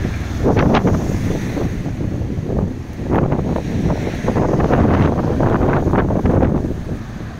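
Strong wind buffets a microphone outdoors during a night walk, a loud continuous low roar that swells and dips in gusts, with no one talking.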